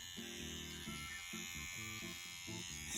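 A WE CNC tattoo machine with a cartridge fitted hums in short bursts, a rapid electric buzz that starts and stops several times. It sounds close and steady over a high background whine.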